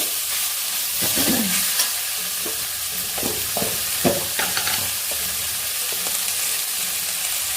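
Cabbage, capsicum and other vegetables frying in a pan, with a steady close sizzle broken by several scraping stirs of a spatula against the pan, no talk.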